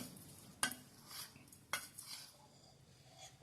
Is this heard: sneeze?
no